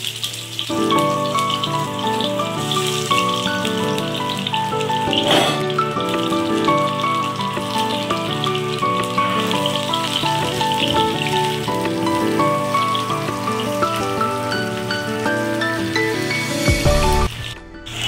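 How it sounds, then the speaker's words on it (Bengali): Onions fry in hot mustard oil with a steady, rain-like sizzle and crackle that continues under loud, constant background music. "তেলটা গরম হয়ে গেছে, এবার আমি পেঁয়াজগুলো দিয়ে দিলাম।"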